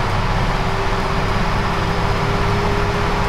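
A Freightliner FLB truck in an Euro Truck Simulator 2 mod drones loudly and steadily, a dense low engine rumble with a faint held tone and no break for the whole stretch.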